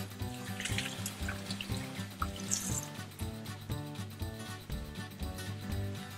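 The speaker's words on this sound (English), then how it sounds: "but we're still going to rinse them off here in the sink." Fish rinsed under a running tap in a kitchen sink, with steady splashing water and uneven clunks and gurgles as the pieces are handled, close and continuous with no talking.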